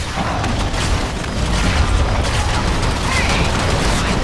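Mortar explosions in the video game Evolve, a dense, loud barrage of booming blasts that rumble continuously through the stretch, with a player's raised voice shouting over the fire.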